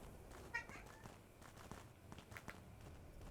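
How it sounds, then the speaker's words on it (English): A cat meows in the dark fantasy action game Fall of Light, inside a fire dungeon, with one clear meow near the start over steady ambient noise and soft footstep-like clicks. "If you think you hear cat noises, you do."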